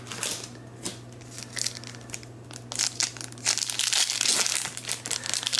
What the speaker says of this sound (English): Retail packs always, like, shred super easy